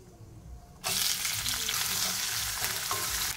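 Chopped onion dropped into hot oil bursts into a loud, sudden sizzle that holds steady and close after a quieter start.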